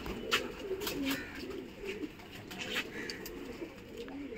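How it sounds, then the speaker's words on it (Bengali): Pigeons coo in soft repeated calls outdoors while young pigeons are flown in training, a steady low murmur of birds over faint background noise. "কয়েকটা পায়রা নিচে উড়ছে।"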